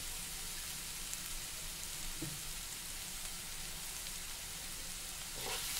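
Vegetables for veg manchurian frying lightly in a pan, a steady fine sizzle and crackle like light rain, with a faint stirring scrape now and then and no voices.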